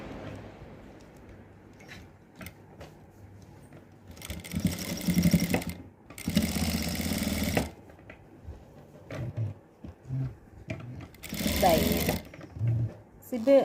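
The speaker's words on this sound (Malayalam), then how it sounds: "ഇങ്ങനെ മടക്കിയിട്ട് ഇവിടെ ഇങ്ങനെ വെച്ച് സ്റ്റിച്ച് ചെയ്ത് പോകണം." A sewing machine stitching a zip runs in several short bursts of rapid mechanical whirring, separated by quieter stretches with handling noises and someone talking.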